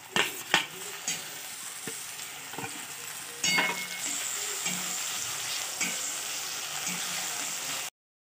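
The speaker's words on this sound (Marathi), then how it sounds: "हिरवी मिरची बारीक चिरून घेतलेली आहे आणि आलं लसणाची पेस्ट छान ही फ्राय करून घेणार।" Ginger-garlic paste and finely chopped green chillies fry for paneer bhurji with a bright, steady sizzle. A few sharp spatula knocks stand out at the start, then a louder burst of frying settles into a continuous hiss before cutting off abruptly.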